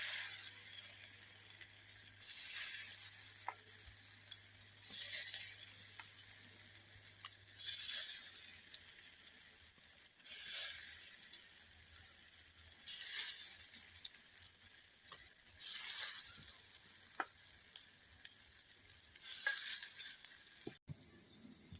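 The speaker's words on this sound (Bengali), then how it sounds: "এখন তেলের উপরে এক এক করে সব বড়াগুলো দিয়ে দিবে।" Drumstick leaf fritters frying in hot oil in a wok, a steady crackling sizzle with brief louder bursts as pieces go in, moderately close and with no talking.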